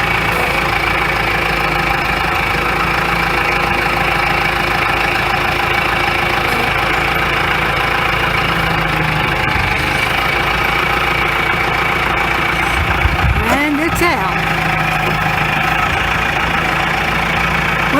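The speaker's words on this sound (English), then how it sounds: "a little bit of work with the tractor" A tractor engine runs loud and steady while pulling out fence posts, with a brief strain and clatter near the end.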